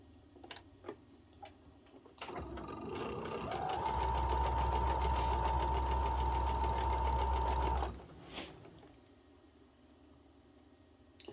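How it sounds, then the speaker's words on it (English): A sewing machine stitches down the edge of a cotton quilt triangle, running steadily and close for about four seconds before stopping, with quieter handling sounds before and after. "I'm gonna sew down this edge here."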